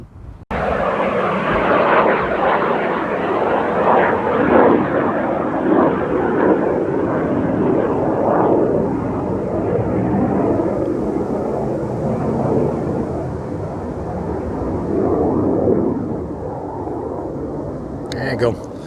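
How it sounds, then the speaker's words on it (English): A fixed-wing aeroplane passes overhead above a coastal walking path near a bay, its engine drone loud and sustained before slowly fading away. "Some sort of aeroplane."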